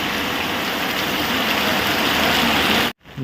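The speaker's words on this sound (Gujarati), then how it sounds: "વરસાદ પડે મસ્ત મજાનો જો" Rain pours down steadily in a Botad village, a dense close hiss of drops that runs unbroken before cutting off abruptly near the end.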